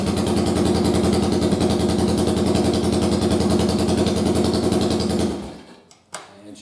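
Custom motorcycle engine with upgraded oil filter covers running with a loud, steady rhythmic chug up close, then cutting off into near silence with a brief knock.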